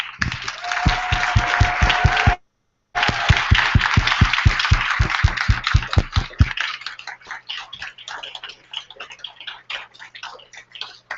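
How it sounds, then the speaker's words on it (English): An audience at a San Jose Startup Weekend demo event rises for a standing ovation for the organizers. Steady, rhythmic clapping is heard at first, then breaks into looser, scattered applause that thins out toward the end. "stand up and thank the organizers with me by giving them a standing ovation"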